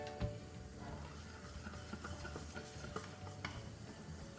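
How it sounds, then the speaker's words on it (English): Milk chocolate fudge mixture being whisked in a pan: a steady, faint scraping and swishing with light clinks of the whisk against the pan, continuous and close. "we're just going to whisk that in"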